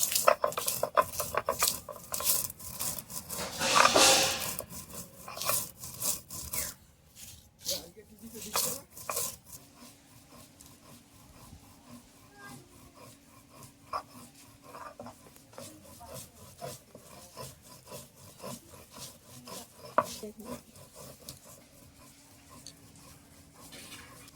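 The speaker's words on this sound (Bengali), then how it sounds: "এবার ততক্ষণ আমি মশলাটা আমি শিলে গুঁড়ো করে নিচ্ছি।" Spices being ground on a stone grinding slab (shil), with rhythmic scraping and knocking of stone on stone, loud at first then quieter and more irregular, with a voice talking over parts of it.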